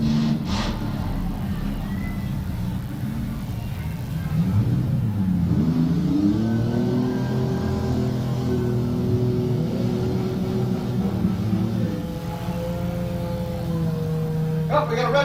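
A demolition derby car engine that had stalled is restarted and revved hard in an outdoor arena. The motor climbs and falls through several long pulls, loud and close, with a sharp crack near the start and another near the end.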